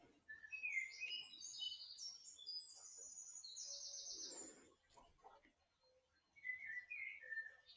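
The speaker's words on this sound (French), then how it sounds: "Les oiseaux se sont remis tout seuls." Several birds sing in the morning outdoors: bright, varied whistling phrases and chirps, fairly near, with a short lull before another burst of song at the end.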